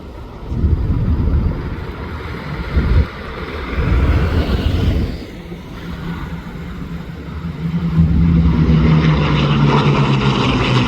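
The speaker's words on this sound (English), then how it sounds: "They'll slow the aircraft down, put the gear down, and call it a day." Propeller aircraft droning past at an airshow before landing, a loud, rumbling engine sound that swells and fades, then rises again toward the end.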